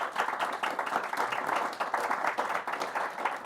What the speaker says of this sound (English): How about a round of applause for our excellent panelists?